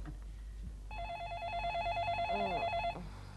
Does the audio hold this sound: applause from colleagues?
no